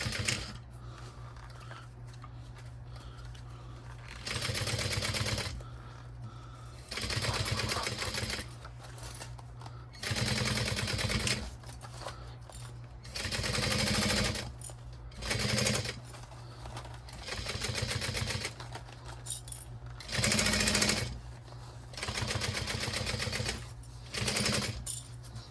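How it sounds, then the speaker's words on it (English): A sewing machine stitches bias tape onto a mini backpack in repeated runs of a few seconds, its steady mechanical rattle starting and stopping again and again with quiet pauses between bursts. "we're just gonna back stitch each time we have a new piece of bias tape."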